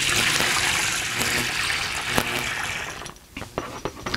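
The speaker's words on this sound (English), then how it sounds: "we're just going to pour that back into our" Foamy sanitizer water from a fermenter pours back into a small basin while home brewing red wine, a steady loud splashing gush that breaks up into sputters and dribbles near the end.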